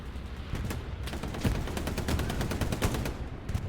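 Rapid machine-gun fire from the World War II shooter Hell Let Loose on the Carentan map, with dense overlapping bursts of loud, close shots crackling steadily for several seconds.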